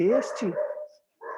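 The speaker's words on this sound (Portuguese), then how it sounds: "Só escutar o cachorro cantando aqui de vez em quando" A dog gives a couple of close, howling barks with a rising and falling pitch, a short pause, then another yelp.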